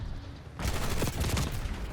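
In a video game, a PU-21 rifle fires a rapid, loud burst of automatic shots close up, following a brief quieter moment.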